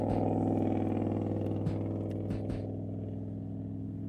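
A low, steady truck engine hum in a video game, with a droning tone, moderately quiet, with a few faint clicks and knocks over it.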